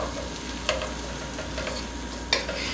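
Tomato sauce simmers and sizzles steadily in a pan, with a couple of sharp clinks from a spoon stirring.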